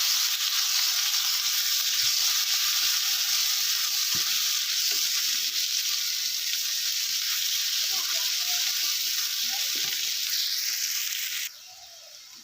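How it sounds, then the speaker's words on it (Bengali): Onion frying in oil with cumin and bay leaves sizzles continuously and close while a spoon stirs with occasional scrapes, the hiss dropping sharply near the end as the heat settles. "পেঁয়াজটা দিয়ে একটু নাড়াচাড়া করে নিচ্ছি"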